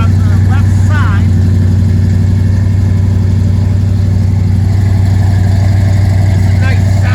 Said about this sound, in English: Let's go listen to that exhaust note.